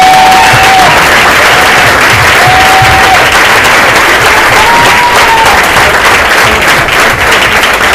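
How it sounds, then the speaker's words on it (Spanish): A church congregation applauds loudly and continuously, many hands clapping close by throughout, with faint voices mixed in. "Y primero demos un aplauso al Señor por eso."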